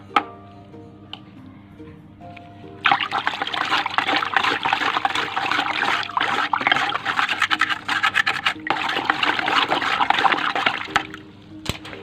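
Water mixed with fungicide poured onto a potted rose plant, a steady splashing trickle that runs for several seconds, pauses briefly, then continues before tapering off.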